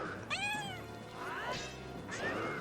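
Cat from Zelda Ocarina of Time on the N64, perched on a witch's shoulder, meowing three times in drawn-out, wavering cries spaced about a second apart, close and clear with no talking.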